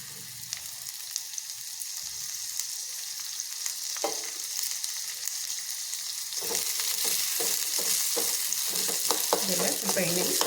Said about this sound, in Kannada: ಇದೆಲ್ಲ ಸ್ವಲ್ಪ ಎಣ್ಣೆಯಲ್ಲಿ ಫ್ರೈ ಮಾಡ್ಕೊಳ್ಳೋದು